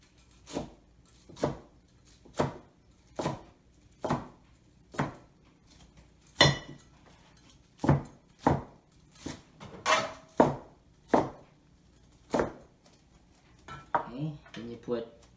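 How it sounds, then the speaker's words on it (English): A knife chops steadily on a cutting board through Cantonese boneless chicken, around a dozen sharp, evenly spaced close knocks with brief pauses between them. "You just cut it once lengthwise here."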